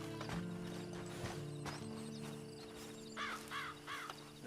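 Hooves clip-clop at a steady rhythm in the video game Red Dead Online, over a low droning background. Near the end, short cawing calls sound above the hoofbeats.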